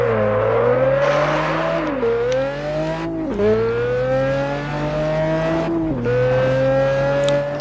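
Pagani Zonda supercar in the racing game Test Drive Unlimited 2, its engine loud and close, rising and falling in pitch through repeated gear shifts and revs, with a brief tire-squeal edge.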